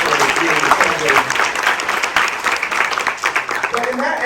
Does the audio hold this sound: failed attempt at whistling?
no